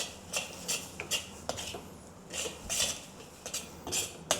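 Fried butter prawns are tossed with cereal in a metal pan, a series of quick scraping and clinking strokes from a utensil against the pan, close and fairly quiet, with no talking.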